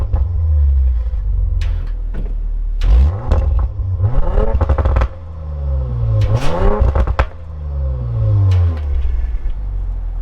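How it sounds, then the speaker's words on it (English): A 2019 Audi RS 5 Coupe with the 2.9T engine and sport exhaust revs up close and loud several times, with rising and falling sweeps and crackling pops between blips. "I'll put the camera down and we'll rev that engine a little bit."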